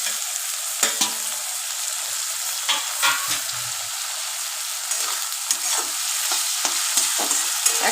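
Ginger garlic paste fries with chicken and shrimp in a pan, a steady bright sizzle broken by repeated scrapes and clacks of a spoon stirring, close and without voices.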